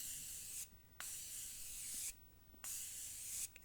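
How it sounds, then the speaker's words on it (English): Morphe Continuous Setting Spray misted onto a face, three sustained hissing bursts of fine spray with short quiet gaps between them, close and fairly loud with no talking. "Morphe Continuous Setting Spray, and I'm just gonna mist my face"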